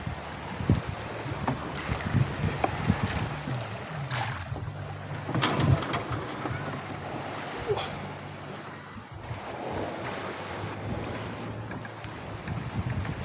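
A fishing boat moves out across the sea toward a fishing spot, its steady low engine drone running under continuous wind and water rush, with a few short gusts and splashes, up close and fairly loud throughout.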